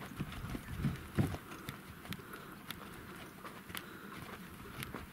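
Horses at a breeding farm walk past with an uneven clip-clop of hooves, moderately near and fairly quiet over a low outdoor background.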